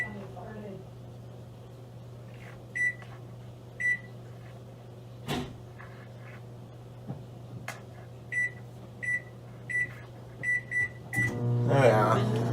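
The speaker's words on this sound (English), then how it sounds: "We're gonna microwave that sauce, YouTube, for a minute, just to melt the butter." A microwave oven hums steadily as it heats a vinegary, sugary rib sauce to melt butter, with a series of short, close beeps and a door clunk near the end.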